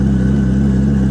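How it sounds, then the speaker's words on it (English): Nissan R32 Skyline on the move with no exhaust fitted, its engine a loud, steady low drone with a constant throb and hum that holds at an even pitch throughout, with no talk over it. "it just seems like a really noisy Skyline at this point"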